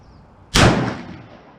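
Single sharp rifle shot from a Ruger M77 in .243 Win firing Berger bullets, a loud sudden crack close by followed by a rolling boom that fades over about a second.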